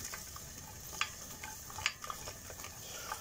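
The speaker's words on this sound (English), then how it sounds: "I give it a good stir" A spoon stirs beef and vegetables in a pot, giving scraping and clinking scrapes over a faint sizzle, with two sharper knocks against the pot rim standing out; no one talks.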